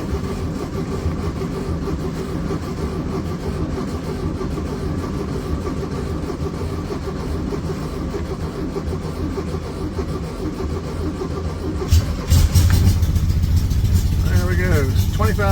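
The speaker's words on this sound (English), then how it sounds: "Now I'll try to start it without rebuilding the carburetor." A Volkswagen Beetle with freshly repaired ignition, an unrebuilt carburetor and new gas, cranks and catches at about twelve seconds, then runs loudly up close after a long stretch of steady background rumble.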